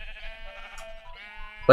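Sheep in a Minecraft pen bleat in a few short, wavering cries, fairly close and clear, ending with a louder burst.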